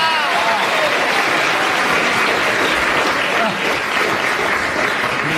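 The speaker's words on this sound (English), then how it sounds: "Thank you for that applause." A studio audience at a comedy show applauds, with loud, dense and sustained clapping that fills the whole stretch and has no break.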